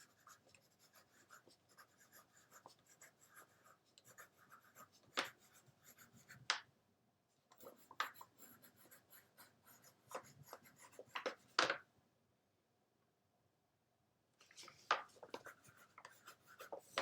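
Colour pencils scratch across paper in bursts of short strokes and longer rubbing passes, close and quiet, broken by a few brief pauses.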